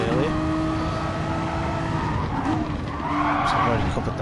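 A Renault Megane Trophy race car in Gran Turismo Sport, its engine droning steadily with tire squeal and skidding through a corner while someone talks over it.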